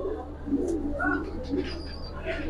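Giribaz pigeons in a coop give repeated low, throaty coos, close by and fairly clear, with light rustling and a faint voice in the background.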